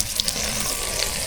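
Water poured from a container onto the soil around a freshly pruned jackfruit tree, a steady close splashing gush with no talking.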